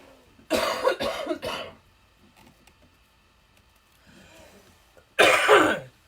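A woman close by gives a burst of three harsh coughs, a quiet pause, and then one more loud cough with throat clearing.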